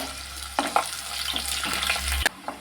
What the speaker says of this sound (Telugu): ఎండుమిర్చి అన్నీ వేగాయి కదా